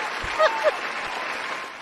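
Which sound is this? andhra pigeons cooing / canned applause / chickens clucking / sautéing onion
canned applause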